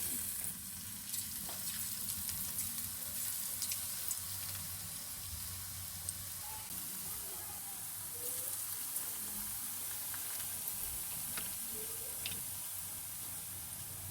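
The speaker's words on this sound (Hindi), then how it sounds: "हम इसको एक एक करके फ्राई करेंगे" Potato garlic bites fry in hot oil in a frying pan, giving a steady, soft sizzle and crackle throughout with faint scattered pops.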